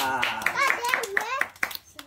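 A few sharp hand claps punctuate a family gathering at home, scattered amid excited, sing-song speech and children's voices that dominate the short moment.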